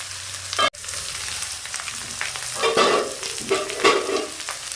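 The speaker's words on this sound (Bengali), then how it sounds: "দু মিনিট পর আবার নেড়ে দিলাম।" Parshe fish curry with brinjal and potato being stirred in a pan, a constant sizzle with a sharp knock near the start followed by scraping stirs, close up and without speech.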